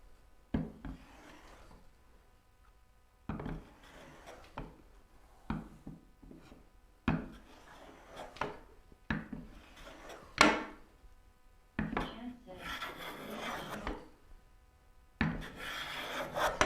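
A large hand plane takes fine shavings from wood while a turning bow saw is being made, giving a series of short, close rasping strokes separated by brief pauses, with no talk.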